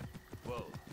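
Galloping horse in Assassin's Creed Origins, hooves pounding in quick rhythmic beats close by, with a brief whinny-like cry in the middle and faint voice underneath.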